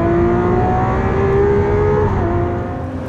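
A Lamborghini Aventador SVJ engine revving under hard acceleration, loud sustained near roar with rising pitch, a brief dip like a gear change, then climbing again.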